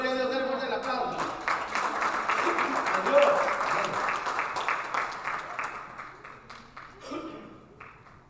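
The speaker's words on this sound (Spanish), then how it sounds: "denle fuerte el aplauso" Church congregation applauding after children sing for the Lord, steady clapping filling several seconds and tapering off near the end, with speech-like sounds mixed in.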